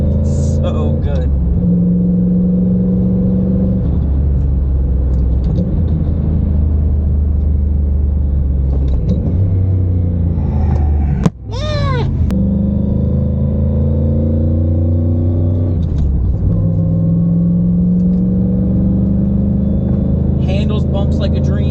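A Lexus IS300 on street coilovers drives over rough, patched Pennsylvania back roads: a steady low engine and road rumble from inside the cabin, with gear-change dips in pitch and one sharp thump midway, under someone talking.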